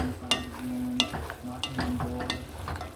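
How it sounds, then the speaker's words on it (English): A spoon stirs a vegetable and meat stew in a pot, making repeated scraping strokes against the pot over a steady low simmering sizzle, close and fairly clear. "Now we can stir."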